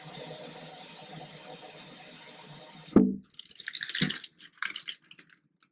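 Water from a sink faucet splashes and gurgles into a plastic flow-measuring bag, irregular sloshing bursts following a low steady hum that cuts off.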